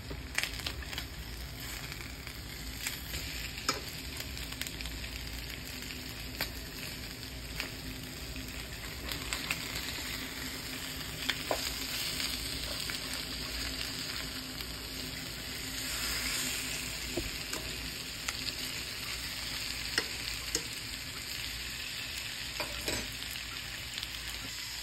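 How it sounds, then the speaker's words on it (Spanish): Chicken hips fry and brown in a pan with a steady, soft sizzle and spatter. Occasional crackles and stirring clicks sound over it, and no one speaks. "aquí están las caderitas dorándose"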